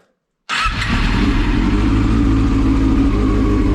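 A Yamaha R6 sport motorcycle with freshly synchronised carburettors fires up after a brief silence and settles into a loud, steady, smooth idle close by, with no voices.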